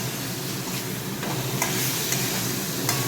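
Chandramukhi potatoes sautéing in a pan: a steady close sizzle with faint occasional stirring clicks, continuous and alone.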